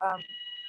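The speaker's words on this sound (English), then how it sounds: "Oh, that's our fire alarm." A building fire alarm gives a sustained high electronic tone that starts just after a brief burst of speech and holds steadily, indoors and moderately loud.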